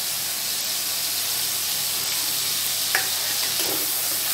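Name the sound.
ginger garlic paste sizzling with tomatoes in pan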